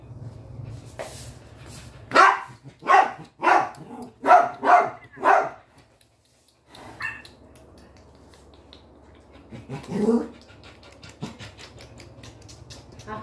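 An agitated dog in heat barks six times in a quick, evenly spaced run, then falls quiet before a few softer yips and one more louder bark close by.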